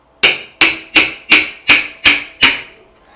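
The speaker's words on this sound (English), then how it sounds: "take a 1-inch bar, or a 1-inch box wrench, put it on the bars, and coax it off with a hammer" Seven sharp metallic hammer strikes ring out against a 1-inch box wrench to coax a handlebar grip off 16-inch ape hanger bars on an Indian Springfield Dark Horse, evenly spaced, loud and close, each decaying quickly.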